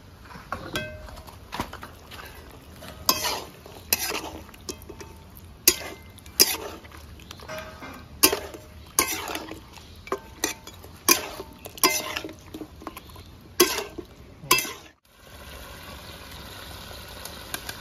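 200 grams of yogurt added to frying chicken for chicken Mumtaz and stirred, with repeated close spoon clanks and scrapes on the pan over a low sizzle, the stirring stopping near the end.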